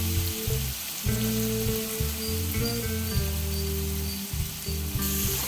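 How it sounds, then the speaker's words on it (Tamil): Grated carrot dropped into hot oil with asafoetida for a mango carrot thokku, producing a steady, dense sizzle, with tonal background music running underneath. "இப்போ நம்ம துருவி வச்சிருக்கிற கேரட்டை சேர்த்துக்குவோம்"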